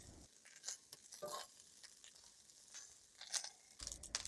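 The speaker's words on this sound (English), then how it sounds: "Then put the rice into the wok and stir fry for about 3 minutes or until the rice is dry." Rice stir-fried in a wok for Yangzhou fried rice, quiet crackling sizzle broken by repeated scraping and tossing strokes of a spatula against the metal, close and fairly soft.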